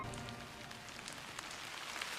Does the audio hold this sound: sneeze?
no